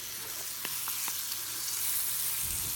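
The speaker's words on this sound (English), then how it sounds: "I see that my pan is getting hot, and I don't want that butter to brown." Butter sizzling in a hot pan before an omelette goes in, a steady soft frying hiss with a few faint clicks, close and alone.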